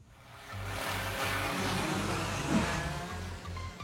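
Cartoon race cars speed past in a race, making a steady engine roar that swells and holds at moderate loudness, with a rhythmic low throb and a brief whoosh near the end.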